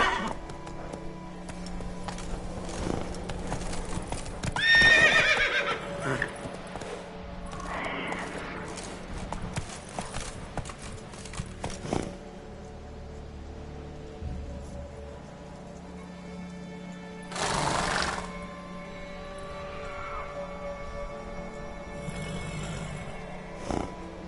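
Roach, a horse in The Witcher 3 video game, trots with steady clip-clop hoofbeats and gives several loud whinnying neighs, mixed with game ambience and occasional rustling.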